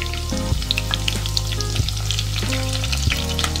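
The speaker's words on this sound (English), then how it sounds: "I'll just let it fry till it gets little brown" Garlic and large green chilies sizzle in a pan for prawn pulao, a steady close frying hiss broken by a few stirring scrapes and clinks at regular intervals.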